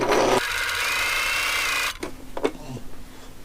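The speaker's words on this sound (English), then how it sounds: "Leave your needle down just before the edge of the fabric, rotate one more time, and sew to the bottom." A sewing machine runs steadily while stitching fabric for a face mask, a close, continuous whirring motor that stops abruptly partway through, followed by a few faint handling clicks.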